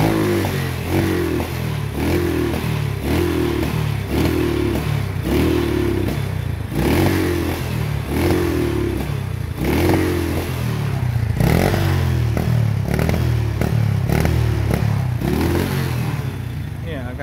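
A Honda Wave 100 motorcycle engine with a carburetor problem revs repeatedly in close, loud, rhythmic bursts, sputtering and popping over a steady idle, with someone talking over it.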